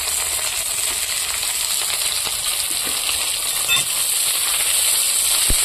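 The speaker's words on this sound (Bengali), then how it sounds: "পেঁয়াজটা হালকা করে ভেজে নেব, বেশি লাল লাল করবো না" Sliced onions fry in hot oil with dried chillies and nigella seeds, giving a steady, close sizzle and hiss with a few small crackles and clinks.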